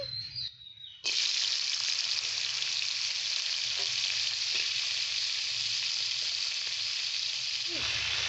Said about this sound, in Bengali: তেলটাও বেশ সুন্দর গরম হয়ে গেছে এখন আমি কাঁকড়াগুলোকে ছেড়ে দিচ্ছি